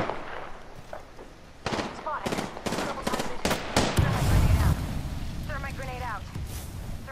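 Thermite grenade explosions in the Apex Legends shooter, heard as a burst of sharp bangs and crackling blasts with a roaring swell midway, under continuous fire and game noise.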